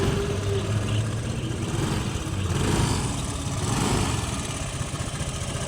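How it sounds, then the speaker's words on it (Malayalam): A 2016 model scooter engine runs steadily at idle after starting, a continuous mid-pitched putter that holds at an even level throughout. "വണ്ടി ഒന്ന് സ്റ്റാർട്ടാക്കി നോക്കിയിട്ട് അതിൻ്റെ സൗണ്ടൊക്കെ നോക്കി നോക്കാം"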